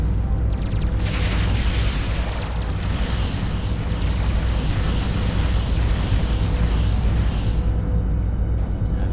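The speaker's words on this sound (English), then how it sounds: "That's a lot of missiles." A massed missile strike in the space strategy game Sword of the Stars, heard as a continuous roaring barrage of rumbling booms and bursts that holds loud for about nine seconds with no talk.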